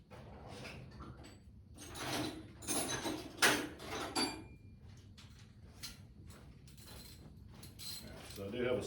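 A socket wrench works on a bracket on a Ford 801 tractor during ignition coil replacement, giving irregular metallic clicks, scrapes and clanks close by with a faint background hum, plus occasional quiet speech.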